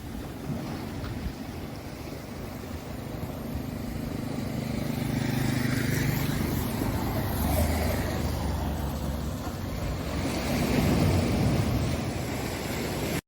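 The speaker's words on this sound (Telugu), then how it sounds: "ఒక్కోసారి కెరటాలు ఈ రాళ్ళకి తగిలి రోడ్డు మీదకి వచ్చేస్తుంటాయి అన్నమాట" Sea waves surge against a rock seawall along the road at Uppada beach, a steady broad roar of surf and wind that swells around the middle and again near the end, with no voices.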